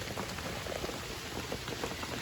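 Steady rain falling outdoors, a dense, even patter of drops holding at one level throughout with no voices over it.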